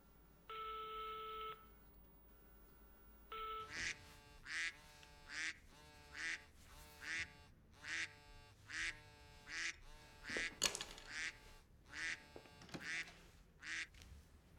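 A telephone ringback tone plays once, then a steady series of about ten evenly spaced rings continues alone, loud and close, with no voices.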